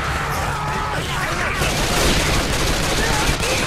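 Dense, loud gunfire aimed at a Charger in Left 4 Dead 2, several weapons firing almost continuously in overlapping bursts for the whole stretch, with voices partly mixed into the din.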